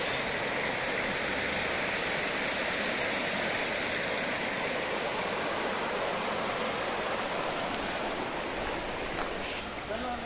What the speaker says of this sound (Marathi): पाण्याचा आवाज.